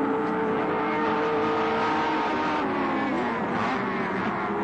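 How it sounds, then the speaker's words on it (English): Mazda and Holden Commodore touring cars race at Oran Park in the 1983 ATCC, their engines droning and shifting pitch steadily throughout, with one note sweeping as a car accelerates, all heard from a broadcast distance. "Moffat again using all of the track and getting up on the rip restriction, tossing the Mazda around behind Brock's Commodore"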